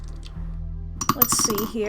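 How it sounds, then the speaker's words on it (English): Dice falling back into their container in the game Scarlet Hollow: a quick, bright cluster of clinking rattles that follows a brief spoken phrase, close and fairly loud before settling. "That's the noise of them falling back into their container."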